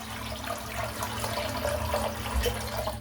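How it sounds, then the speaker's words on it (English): Cold water running from a tap into a bathroom sink, a steady close splashing stream with a low rumble, continuous and moderately quiet throughout. "I'm going to put some cold water in the sink."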